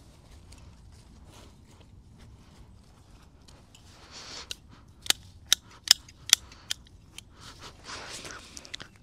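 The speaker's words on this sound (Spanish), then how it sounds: "lo único que hacemos es cortar todas las flores que se estén secando." Dried iris flower stalks are cut with pruning shears during garden pruning: a handful of sharp, close snips come in quick succession after a quiet, faintly rustling lead-in.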